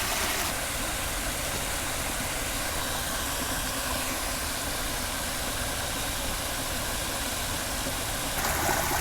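A small waterfall pours in a continuous, dense rush of broadband hiss, steady and fairly close, with no voices over it.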